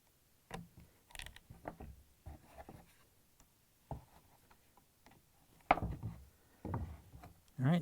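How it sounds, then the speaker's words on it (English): Two screws being taken out of an LG/Kenmore dryer lint screen housing on a table: faint, sparse clicks and ticks of tool and plastic handling, spaced irregularly, close by and quiet, with no voices. "And now I'm going to take out this 2 screws."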